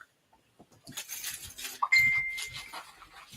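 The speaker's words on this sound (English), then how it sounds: "I've got a Westminster chime." A battery-powered Westminster chime rings out, a sustained bright tone emerging after some rustling and clinking of items being handled nearby.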